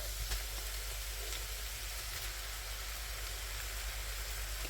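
Beef frying in a pan for a cassoulet, a steady, even sizzle and crackle that holds at a constant level throughout, close and continuous with no talking.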